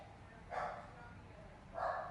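Excited barks from pet dogs come twice, about a second apart, at moderate volume against low background noise.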